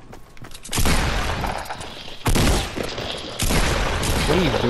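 Gunfire in a Fortnite match, loud sustained bursts of rapid shots in three long stretches, close and dense, with brief gaps between volleys.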